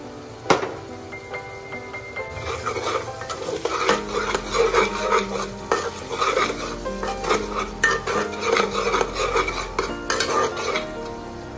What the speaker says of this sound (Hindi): एबे आम हलदी आउ काश्मीरी लाल मिर्ची पाउडर आ कंचा लंका मिक्स कर पकेबा